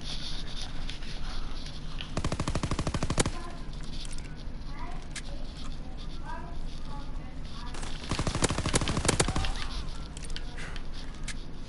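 Gunfire in a World War II video game: two dense bursts of rapid shots, one early and one late, with scattered single cracks and busy battlefield noise between them.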